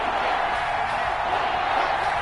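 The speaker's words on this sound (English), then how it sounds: "The crowd getting into it as we come up on a big 3rd down." Crowd noise from a PS4 football game broadcast, a steady roar of cheering building ahead of a big third down, continuous and loud with no distinct talk.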